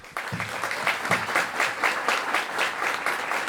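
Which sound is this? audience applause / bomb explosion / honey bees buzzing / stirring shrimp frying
audience applause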